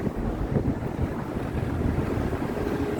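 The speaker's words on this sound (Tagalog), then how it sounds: "Sarap ng panahon, mahangin ngayon." Steady wind blows and buffets the microphone, a constant low rushing roar with no voices.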